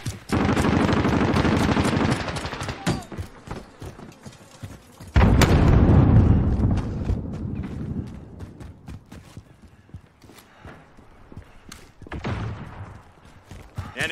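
Shotgun and automatic gunfire in Call of Duty Modern Warfare team deathmatch: loud bursts of rapid shots in clusters, separated by quieter gaps with scattered clicks and thumps, then another volley near the end.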